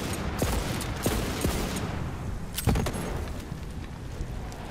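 Bursts of gunfire in the shooter Borderlands 3, several sharp shots scattered across a few seconds over a steady busy game backdrop, with one louder cluster of rapid shots near the middle.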